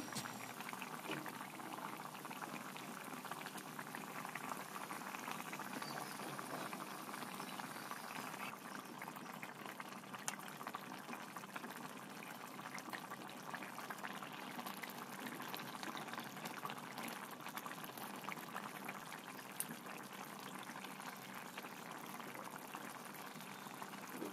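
Water boils in a pot of Rui fish curry with capsicum, giving a steady, close bubbling and hissing roil that holds evenly throughout with no talking.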